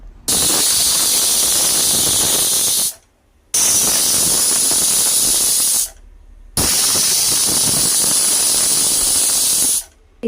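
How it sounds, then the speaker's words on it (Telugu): A pressure cooker cooking bottle gourd with moong dal whistles three times, each a loud, sustained hissing blast of steam lasting nearly three seconds, separated by brief silences. "ఒక 3 విజిల్స్ వచ్చేదాకా ఉంచుకోవాలి"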